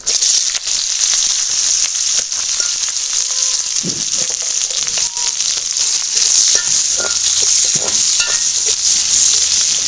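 Onion, green chili and curry leaves fry in hot oil for a tempering, a steady broadband sizzle with scattered crackles and pops throughout, close and fairly loud with no talking.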